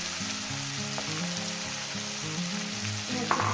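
Food hits hot oil and sizzles steadily while frying dried fish masala by a riverside, a close, continuous crackle with a few light stirring clinks and no talking.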